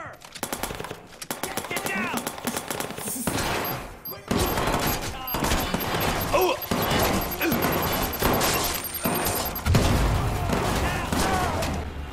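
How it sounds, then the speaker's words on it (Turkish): Rapid gunfire from a non-lethal paint gun in the video game Watch Dogs 2, loud bursts of fast shots repeating almost continuously with brief pauses, game sounds layered underneath. "Pıt pıt pıt boya atıyor."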